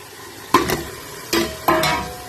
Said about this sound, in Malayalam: മസാലപ്പൊടി ഇട്ട് ഇതൊന്ന് ഫ്രൈ ആക്കി എടുക്കാം ഈ എണ്ണയിലിട്ടിട്ട്